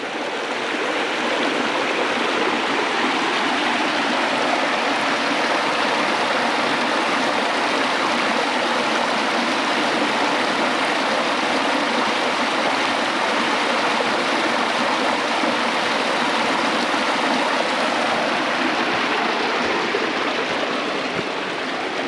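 Water from a culvert outlet lined with rocks drains steadily into a swamp beside a field road, a continuous close rushing trickle like a small stream with no other sounds.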